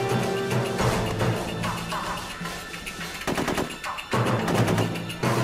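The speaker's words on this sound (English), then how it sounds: "Heavy fire." Heavy automatic gunfire in the 2004 video game Full Spectrum Warrior, rapid loud bursts of machine-gun fire in rolling volleys with brief pauses between, close and dense.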